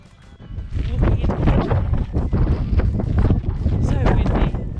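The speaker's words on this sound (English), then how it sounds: "So windy" Strong, gusty wind at Petra, Jordan buffets the microphone in a steady loud roar, with rustling bursts and faint background voices.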